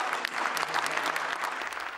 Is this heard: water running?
no